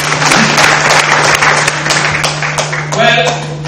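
Applause from a student audience at a university gathering, a steady dense wash of many hands clapping that runs loud and unbroken throughout.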